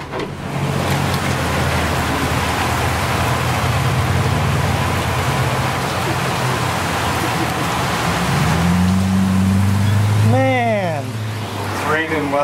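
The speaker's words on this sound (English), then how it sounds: "We'd never get a break from this rain." Heavy rain during a major storm hisses steadily throughout, with a vehicle engine rumbling underneath and a short voiced utterance rising and falling near the end.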